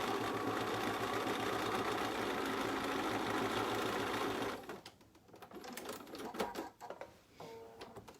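A sewing machine stitching a quarter inch from the fabric edge runs in a fast, even, close-up whir for about four and a half seconds, then stops, followed by quieter handling noises and light clunks.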